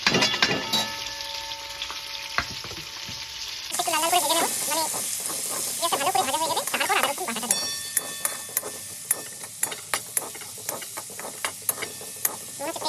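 Onion hitting hot mustard oil already seasoned with garam masala, bay leaf and a pinch of sugar, bursting into a loud steady sizzle with stirring clatter and regular spoon taps, while a voice talks over the cooking.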